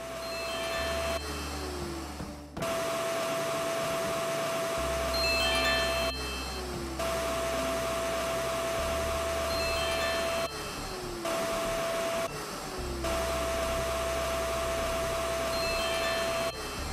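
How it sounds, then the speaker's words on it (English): A vacuum tool in the game My Time at sucks up purple pollution, a steady whirring drone that starts and stops in repeated stretches of several seconds, with short gaps between them. "I feel compelled to vacuum up every drop of this stuff."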